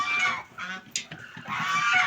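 Geese honk in a few short, nasal bursts close by, separated by brief gaps, with a faint human voice in the background.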